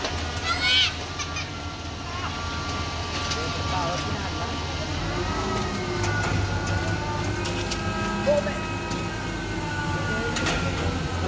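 A train rumbles steadily past at close range, with rattling, screeching and clanking throughout and voices talking over the noise.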